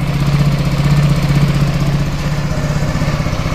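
A motorcycle or car engine idles steadily up close during a battery and charging-system check, a loud continuous low mechanical drone with a fast regular pulse and no talk.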